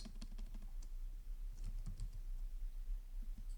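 Light, quick keystrokes on a computer keyboard while entering C code, soft irregular clicks over a low steady hum, with no voices.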